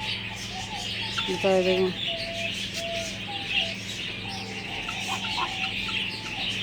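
Pigeons kept at a home and sitting on the ground after rain make short calls and clucks close by while someone talks over them.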